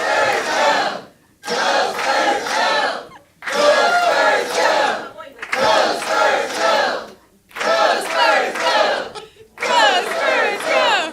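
A large crowd chants "Go, Spurs, go!" in unison, repeated about six times with brief pauses between each round, loud and close.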